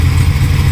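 Oldsmobile 350 V8 running a rebuilt Demon 850 carburetor, heard as a loud, close, steady low engine drone with slight roughness through the whole brief moment.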